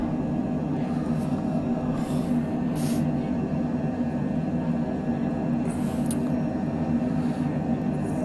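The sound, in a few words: jet aircraft engine in flight simulator video game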